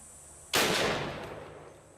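A single thunderous shot from a Barrett .50 caliber rifle fired at a padlock, a sudden sharp blast that rolls off into a long fading echo outdoors.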